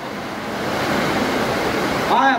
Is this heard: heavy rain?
yes